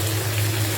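Chicken sizzling in a hot pan with small drops of water splashed in, giving a steady, dense hiss that runs unbroken and fairly loud throughout.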